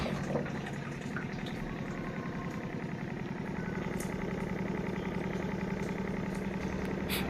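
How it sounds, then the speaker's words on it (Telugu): A water purifier's small motor runs on the bench after being switched on, giving a low, steady hum with a faint watery gurgle throughout and no talking. "ఇక్కడ మోటార్ చూడండి ఆన్ అయింది అనమాట."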